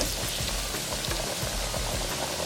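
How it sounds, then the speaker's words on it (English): Chicken crackles and sizzles steadily in hot oil in a deep fryer, a dense, continuous frying hiss with small popping bursts throughout. "make sure your temperature is hot and ready, and let's go ahead and start frying"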